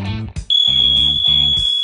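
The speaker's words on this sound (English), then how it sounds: "The alarms all make a loud enough beep." Smoke alarms sound during a smoke test with burning foam, a loud, piercing continuous electronic tone that starts abruptly and holds, layered over pulsing lower buzzing tones.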